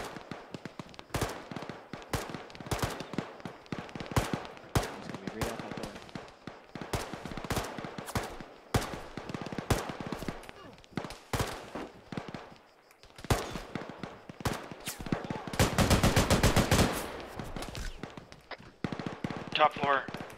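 Video game gunfire crackles in bursts of single shots and rapid automatic strings, with a dense fusillade partway through, while players talk over it near the microphone.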